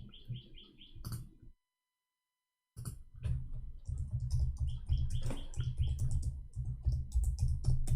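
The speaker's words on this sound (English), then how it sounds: "I was typing in Arabic." Clicky typing on a computer keyboard, rapid irregular keystrokes in short bursts broken by a silent gap, fairly close and alone with no voices.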